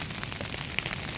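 Rain pours onto a campfire during a winter survival outing, giving a short, steady patter and hiss with faint crackles, all at a low level.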